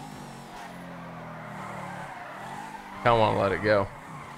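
A Bugatti Divo in GTA 5 drifts with its engine droning low throughout, then a loud, wavering tire squeal bursts out near the end, with someone talking over the car.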